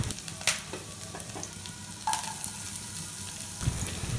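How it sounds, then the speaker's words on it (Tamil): Chopped ginger and garlic fry in a tablespoon of oil on a tawa, giving a steady close sizzle with a few sharper crackles and stirring scrapes over about four seconds. "அதுக்கு ஒரு டவாவில் ஒரு டேபிள்ஸ்பூன் எண்ணெய் விட்டுக்கணும், அரை துண்டு இஞ்சியும் 4-5 பல் பூண்டு பொடியாக நறுக்கணதும் உள்ளே சேர்த்திக்கலாம்"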